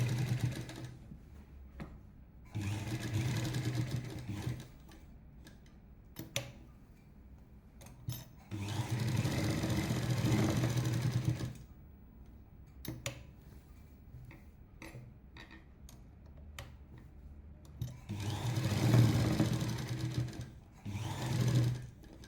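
A sewing machine sews a second double stitch on a chudidar neck design with canvas, running in several separate bursts of steady whirring with quiet pauses between them.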